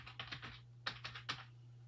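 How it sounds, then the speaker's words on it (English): Light keystrokes on a computer keyboard entering a search term, two quick bursts of clustered taps separated by a short pause, close and clean with no talk. "I'm going to first of all type in Brexit"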